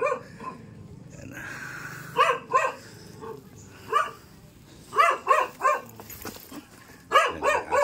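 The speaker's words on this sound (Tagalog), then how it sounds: "Ayan yung aso." A dog barks in short bursts, several sharp yaps spaced through the moment at a house, fairly close, with a brief whimpering tone early on and quiet background noise between barks.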